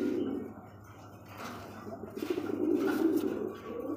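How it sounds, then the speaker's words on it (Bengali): A male pigeon coos close by in low, soft, rolling calls that repeat over steady background noise, with no talking in between. "এই দেখেন ঘুরিয়া ফিরিয়া ডাকি, কে ডাকে ভাই? নর ডাকে।"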